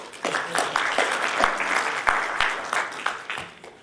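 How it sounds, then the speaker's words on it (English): Conference attendees at a configuration-management talk give a short round of clapping, scattered, individually distinct hand claps from a modest crowd in a room. "you can clap if you want."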